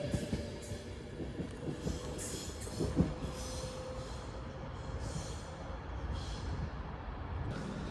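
A Class 390 train sits at Stoke-on-Trent station, heard as a faint, low rumbling hum with a steady tone, occasional clunks and a distinct knock near the middle, amid quiet station ambience.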